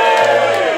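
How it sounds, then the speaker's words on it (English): A stand-up comedy crowd of former state school pupils lets out a short, loud burst of cheering and whooping, a dense wall of voices that swells and cuts off within a second. "Give me a cheer if you went to a state school."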